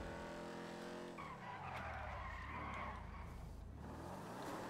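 A car drifts in GTA Online with a sustained tire squeal and skid over a droning engine, steady and fairly close for several seconds, with no one talking.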